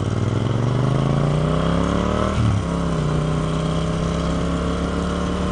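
A 689cc parallel-twin motorcycle engine running on the road, a loud steady drone that dips and then climbs again as the revs shift, heavy wind rush throughout.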